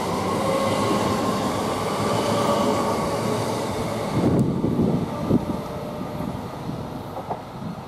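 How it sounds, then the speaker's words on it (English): A passenger train of two coupled electric units departs Cambridge North station with a steady loud rolling rumble and wheel noise that fades as it pulls away, leaving quieter platform ambience with occasional knocks. "Now this 1309 London King's Cross to Ely is just now departing."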